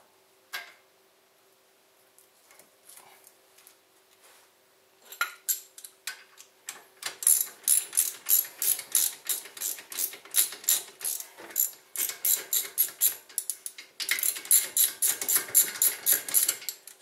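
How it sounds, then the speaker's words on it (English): Ratchet tightening a brake caliper bolt on a Honda, a few tentative clicks then rapid rhythmic bursts of ratcheting strokes, close and crisp, no talking. "Snug up the bolt"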